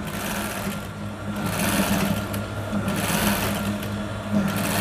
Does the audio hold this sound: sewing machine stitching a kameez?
yes